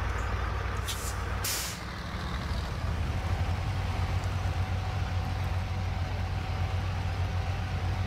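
Heavy truck engine in the snowy off-road driving game SnowRunner, a loud steady low drone with a short hiss burst early on, then constant rumbling, no talking.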